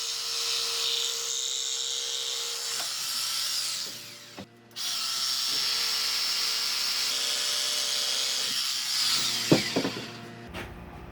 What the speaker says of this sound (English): I'm using my Bosch jigsaw to cut a notch in the shelf